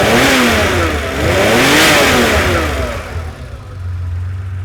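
Ferrari 512BBi flat-twelve engine revving after a throttle adjustment, loud and close, the pitch sweeping up and down through several blips before settling back toward idle.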